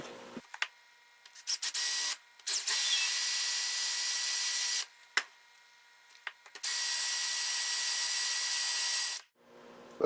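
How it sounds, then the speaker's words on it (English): A power drill bores through metal steering column parts in a car restoration workshop: several sustained high-pitched whining bursts of a few seconds each, separated by short pauses, close and loud. "So I'm just going to take a drill and drill through these things"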